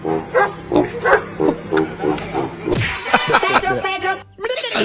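A dog barks along in repeated, evenly spaced yaps near a bamboo tree, loud and close, with people talking over it toward the end.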